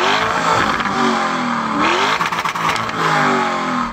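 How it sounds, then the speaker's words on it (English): A Lamborghini Urus Performante engine revs hard, loud and close. The pitch climbs, drops briefly to a stuttering burble, then climbs again to a roaring peak, with no voices. "Go on, rev it up."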